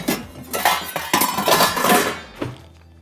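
Metal pots, pans and lids clanking and clattering in a home kitchen while cooking pasta, a busy run of rattles and clinks before it quiets, with no talk.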